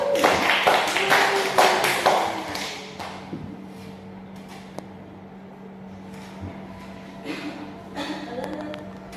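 A classroom of students claps together for a classmate's correct answer, a burst of fairly close, dense applause lasting about three seconds before fading into quiet room murmur.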